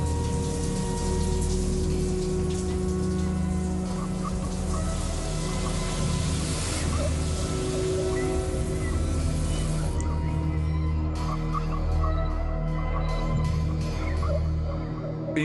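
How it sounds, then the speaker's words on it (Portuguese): A shower and bathroom taps left running, giving a steady, continuous rush of water that stays loud and even throughout with a low hum beneath it and no talking. "o chuveiro estava ligado e as torneiras abertas"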